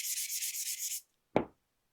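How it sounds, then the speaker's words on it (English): A second of steady, raspy sanding strokes on a crossbow arrow, followed after a short pause by a single brief knock. No voices. "So Let's just do a real light sanding here."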